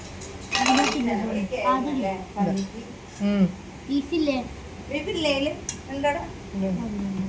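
Beef biryani being scooped onto a plate in a home kitchen: a sharp clatter of dishware, then scattered spoon-on-plate clinks mixed with ongoing conversation between an adult and a child.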